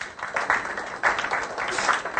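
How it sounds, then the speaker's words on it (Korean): A short burst of applause from a small group in a university lecture class, moderately loud with scattered clapping that swells twice before settling. "박수 한번 쳐주고"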